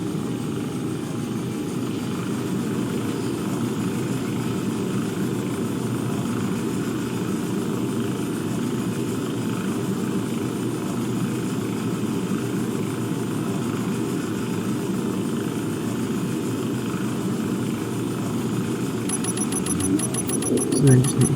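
Atmospheric thrusters on a spaceship in a space engineering video game give a steady, loud, broad engine roar that holds evenly throughout, with a faint higher whine toward the end.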